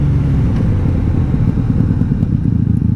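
A 1997 Honda Magna VF750C motorcycle with bent pipes cruises at highway speed, its engine drone loud, steady and close, with wind rumble and slight fluctuations in throttle throughout.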